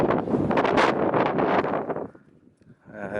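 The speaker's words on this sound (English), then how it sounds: "It's super windy." Heavy wind buffets the microphone in loud rumbling gusts, then drops off briefly before picking up again, outdoors beside a van parked on a slope; no voices heard.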